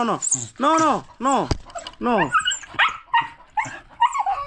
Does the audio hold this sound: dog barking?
yes